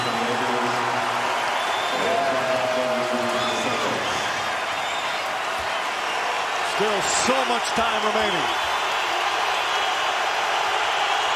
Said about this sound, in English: Crowd trying to rattle one of the great free throw shooters.